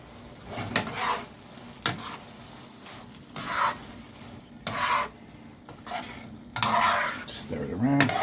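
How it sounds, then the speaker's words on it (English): Cherry tomato pasta stirred in a pan with the heat off, giving repeated scraping and clinking strokes of a utensil against the pan alongside soft wet shuffling, close and moderately loud. "Stir it around."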